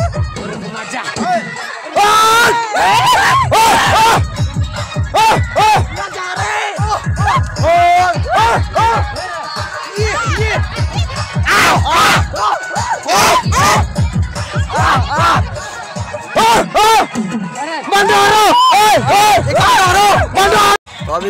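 Large crowd at an Indian wedding procession shouting and whooping loudly in repeated bursts, with excited voices overlapping throughout and brief pauses between surges.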